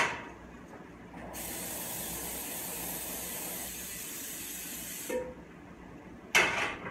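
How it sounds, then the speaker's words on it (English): Cooking spray hissing into a pan in one steady spray of about four seconds, fairly close and clear, followed by a short clatter and a brief second burst of sound. "I'm gonna give it a little spray."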